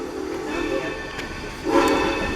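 A 0-6-0 saddle tank steam switcher locomotive on the Essex steam train line gives a low, rumbling hiss, with brief whistle-like bursts rising near the end; nobody speaks.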